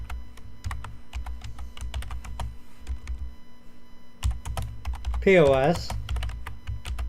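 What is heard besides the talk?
typing a folder name on a computer keyboard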